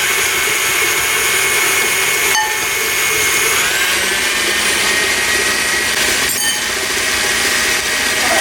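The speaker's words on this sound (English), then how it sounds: "we're going to beat together until fluffy, and then we'll reassess. And we're also using a paddle, not the whisk." A stand mixer fitted with a paddle beats butter and sugar, its motor giving a loud, steady high-pitched whir with a brief pitch shift and a couple of clunks partway through.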